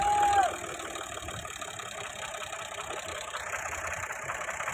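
A tractor engine runs at idle outdoors, a steady mid-pitched rumble that continues evenly after a brief louder moment at the start, with no speech over it.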